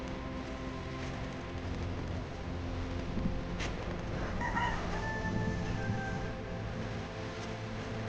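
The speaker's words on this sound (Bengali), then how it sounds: "এখানে বিভিন্ন ধরনের মুরগি আছে" A rooster crows and chickens cluck at a large chicken farm, with one faint crow standing above a steady murmur of fowl and distant background noise.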